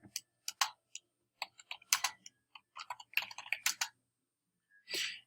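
An address is tapped out on a computer keyboard in irregular close bursts of crisp key clicks, with short pauses and a final quick cluster of keystrokes.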